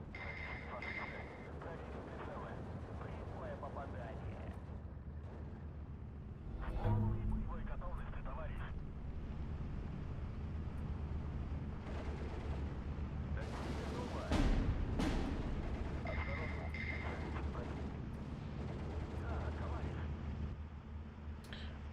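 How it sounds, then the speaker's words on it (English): Mortar fire in the WWII strategy game Steel Division 2, a series of dull booms and explosions rumbling through a dense, continuous battle soundscape, with a heavier blast around the middle, all beneath steady talk. "Let these mortars do their thing."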